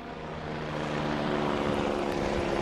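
A helicopter in Minecraft gives a steady, loud rotor-and-engine drone that swells slightly and holds evenly throughout, with no voices over it.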